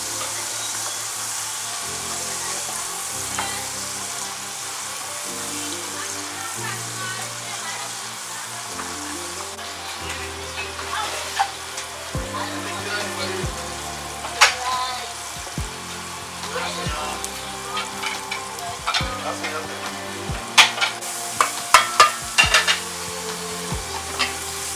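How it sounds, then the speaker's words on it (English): Diced onion fries in a pan during fried rice preparation, with a continuous hiss under repeated stirring and clattering scrapes that grow busier and louder toward the end; a voice murmurs faintly in the background. "Add the onion, stir it, fry it a little bit"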